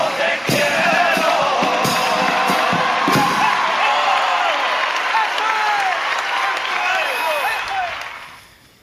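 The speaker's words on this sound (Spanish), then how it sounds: "Esa fue la ovación que comentabas" A theatre audience rises in a standing ovation, loud sustained clapping mixed with cheers, whoops and shouted voices, a few sharp accents early on, the roar holding for several seconds before fading out.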